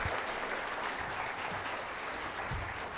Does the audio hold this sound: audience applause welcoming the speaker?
yes